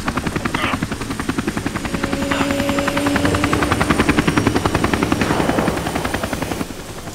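A combat helicopter in the video game Army of Two roars with steady, loud rotor chop and whine, holding constant for several seconds with no speech over it.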